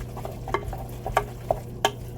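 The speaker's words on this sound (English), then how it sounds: "stir this all together." A mixture for a science project is stirred in a container, with soft continuous swishing and several light taps of the utensil against the sides, close and quiet over a low hum.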